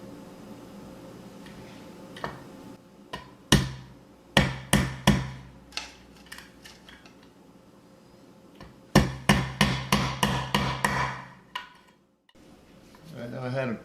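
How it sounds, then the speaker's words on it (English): Sharp, close hammer blows drive a wooden peg into a wall coat rack, first a few scattered strikes, then a quick run of about eight evenly spaced knocks, with a pause between groups. "I'm just going to pound it in."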